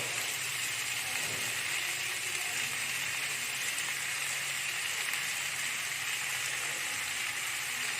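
Tomato sauce goes into a pan of chilli chicken cooking in hot oil, and a loud, continuous sizzle with a hissing steam texture holds steady and close throughout.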